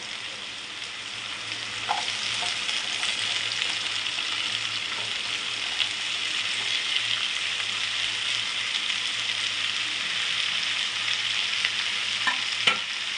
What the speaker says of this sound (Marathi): भोपळा मिरची टाकून घ्यायची आपल्याला